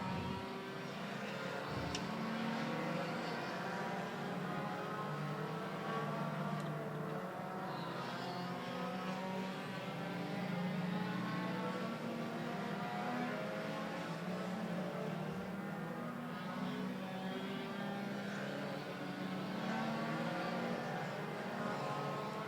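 Pure stock race cars, including a station wagon, roar steadily around a dirt oval track late in a race, a continuous loud engine drone with no break throughout.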